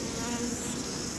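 Bees and wasps buzzing around beehives in a New Zealand apiary, a dense continuous close drone of many insects, steady throughout without speech.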